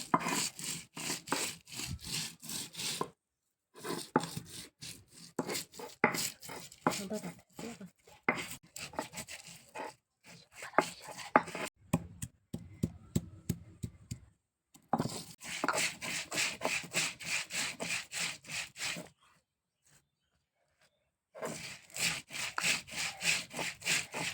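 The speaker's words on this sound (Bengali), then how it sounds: "তো এবারে আমি সবগুলো উপকরণকে এভাবে বেটে নেব।" Chutney ingredients with green chilli and salt are ground on a stone, making rhythmic, gritty scraping strokes in close, repeated runs that break off for short pauses, one longer gap near the end.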